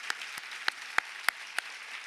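A handful of scattered handclaps from a small conference audience honouring guest speakers, about six sharp, separate claps spread over two seconds, fairly faint and without voices.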